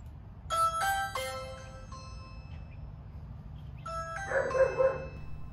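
A Ring Video Doorbell Pro chimes twice, a few seconds apart, each a quick bright sequence of tones in an otherwise quiet room with a low hum.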